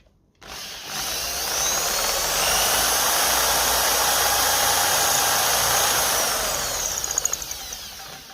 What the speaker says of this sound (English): We'll have to use the Dremel, and just give him a clean up, get the brass shiny again